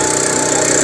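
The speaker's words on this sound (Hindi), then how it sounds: "वीडियो में सिर्फ ये टेस्ट हो रहा है कि इंजन लोड ले रहा है या नहीं ले रहा है" A farm machine's engine runs steadily under load at the Ludhiana Kisan Mela agricultural fair, giving a loud, continuous, buzzing mechanical drone with no pauses and no voices.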